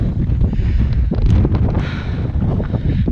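Strong wind buffets the microphone without a break on a rugged Scottish island in the Western Isles, a loud, steady roar with gusty rumbling.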